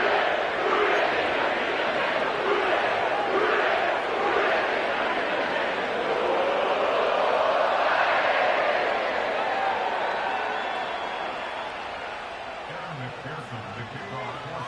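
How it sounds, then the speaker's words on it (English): A sellout stadium crowd at Paycor Stadium in Cincinnati for a Monday night Commanders vs Bengals football game roars in a loud, sustained wash of cheering and shouting that eases slightly toward the end. "sellout crowd has arrived at Paycor Stadium in Cincinnati."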